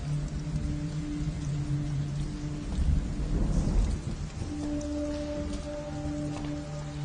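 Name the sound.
heavy rain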